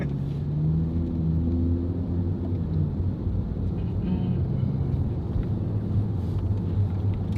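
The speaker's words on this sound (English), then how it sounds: "Chicago traffic." Steady low rumble of Chicago street traffic, cars passing continuously at moderate distance with a constant engine drone and no clear horns.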